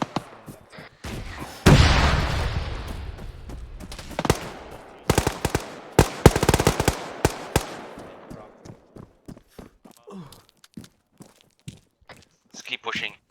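Bursts of heavy machine gun fire in a military video game, sharp rapid shots in clusters, some loud and close, others fainter, with scattered single cracks.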